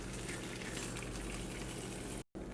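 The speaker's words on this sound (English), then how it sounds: "While my tortillas are frying" Tortillas frying in a pan give a steady, close hiss and crackle that runs evenly, broken by a brief dropout near the end, with no talking.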